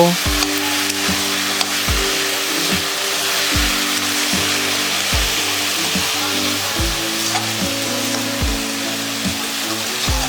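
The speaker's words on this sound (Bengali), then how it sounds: "এবারে একটু ভালো মতো নাড়াচাড়া করে নিয়ে দিয়ে দেবো ভেজে রাখা মাছের মাথা" Squash curry with pieces of fried fish head sizzles loudly and continuously in a pan. A spatula scrapes the bottom in regular, evenly spaced strokes about once a second, with no voices.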